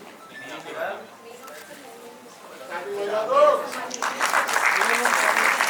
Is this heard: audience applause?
yes